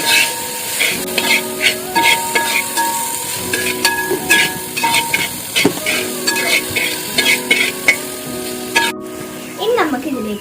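Pineapple and two tablespoons of sugar stirred in a hot pan, giving a sizzling fry with repeated scraping strokes of the spoon, up close, with a faint tonal hum running underneath.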